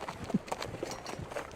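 Cavalry horses gallop in the Napoleonic strategy game Campaign Waterloo, a quick, faint run of hoofbeats over a short moment with no voices over it.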